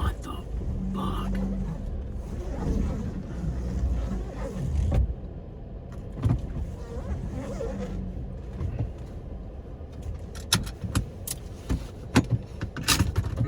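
A Saturn car key and keys jangle and clatter in short, irregular bursts inside a car in rainy traffic, with road rumble behind and someone talking at times.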